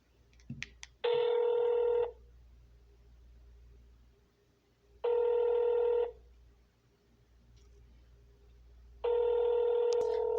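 A telephone call goes unanswered, with three long ringback tones spaced several seconds apart over a quiet low hum, preceded by a few brief clicks.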